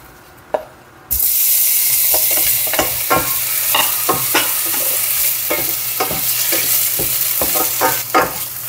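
Sausage sizzles loudly in a frying pan, the hiss bursting in after a quiet start and continuing with repeated scraping, stirring clacks against the pan.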